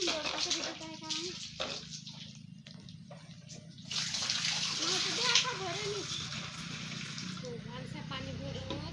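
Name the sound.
water being filled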